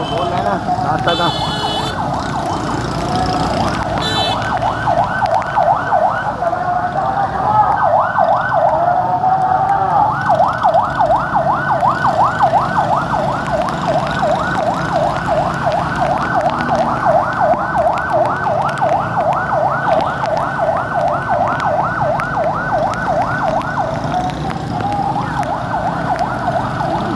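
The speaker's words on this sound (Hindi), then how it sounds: "ये एम्बुलेंस आ रही है, देखते हैं" Wailing ambulance siren cycling steadily and loudly for the whole stretch, heard from nearby amid heavy rain and a traffic jam in flooded city streets, with the hiss of rain and traffic underneath and occasional talk.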